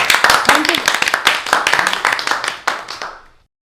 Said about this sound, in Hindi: भाई, सभी टीमों के लिए जोरदार तालियां